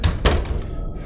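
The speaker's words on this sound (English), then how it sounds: "Sarah slammed the door and locked it" A door slams shut as a sound effect in a narrated horror story, one heavy, close thud with a quick second impact, then a short fading rumble.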